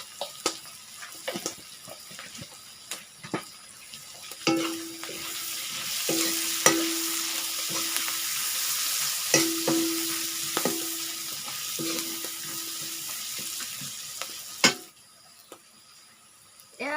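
A ready-made spice mix of ginger, turmeric, cumin and meat masala sizzles in hot oil for a duck curry with pumpkin, with steady frying hiss and repeated scraping stirs, close and alone.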